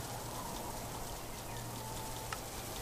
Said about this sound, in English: Rain has started.